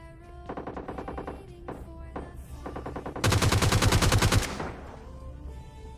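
Rapid automatic gunfire in the mobile battle-royale game PUBG Lite, several short bursts followed by a louder, denser sustained volley near the end, with game music or ambience underneath.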